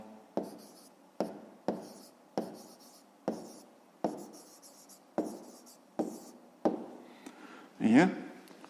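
Pen or chalk writing out a math answer, a series of about nine regular scratchy strokes at a steady rhythm, each starting with a tap and trailing off, ending in a louder scrape; a voice is present.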